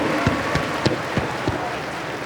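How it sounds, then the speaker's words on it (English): Audience applause for Kevin Love after a master 3-point shootout at an all-star basketball challenge event, a steady wash of clapping with a few sharper claps standing out, moderately loud throughout. "A round of applause for Kevin Love. Give it up."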